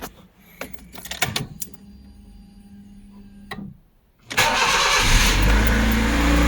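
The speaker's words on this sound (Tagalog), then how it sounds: "start natin guys yung sasakyan" Keys jingle and clicks sound, then after a short pause a Honda Civic engine cranks and roars to life, settling into a loud, steady run.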